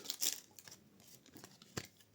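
Scissors snip into a Magic: The Gathering booster pack, Avatar set, with a crisp cut and crinkle of foil wrapper near the start and another sharp snip shortly after, close and fairly quiet with no talking.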